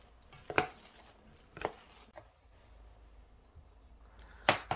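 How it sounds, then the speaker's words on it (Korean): Firm steamed rice soaked in hot plum-blossom infusion is stirred and turned for brewing plum-blossom rice wine. A few sparse, soft knocks and scrapes of the utensil come up close over a quiet background. "잘 뒤적거려 가면서 고두밥이 물을 다 흡수할 수 있도록 해줍니다."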